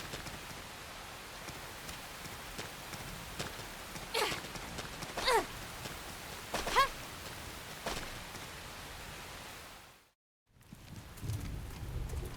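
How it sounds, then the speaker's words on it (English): Steady rain in the video game Xenoblade Chronicles X, a continuous hissing downpour with a few brief louder splashes, cutting briefly to silence before resuming, with no talking. "The rain's starting to let up, just in time for sunrise."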